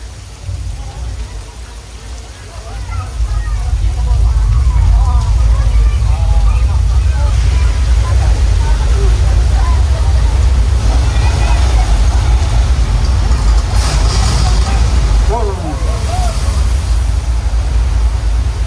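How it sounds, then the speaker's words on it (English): Loud, steady rush of recycled water from large hillside tanks flooding a studio backlot set in a staged flash flood at Universal Studios Hollywood, broad and continuous, with a murmur of tour riders in the background. "That flood was caused by dumping thousands thousands of gallons of recycled water from large tanks on the hill"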